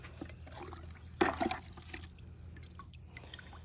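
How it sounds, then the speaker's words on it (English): Water trickles and splashes into a container being filled to mix garden fertilizer, a brief louder burst of pouring in the middle with faint dripping around it, quiet and close. "And then I'll fill it with water."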